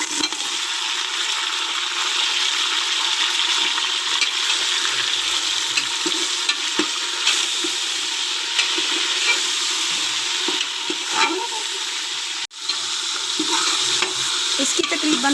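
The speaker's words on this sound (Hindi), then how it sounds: "इसकी तकरीबन 5 मिनट मैं बुनाई करूँगी।" Mutton pieces frying in oil with spiced masala and crushed chilli, a loud continuous sizzle close up with spatula scraping and stirring through the pan, one brief sharp knock partway, no talking.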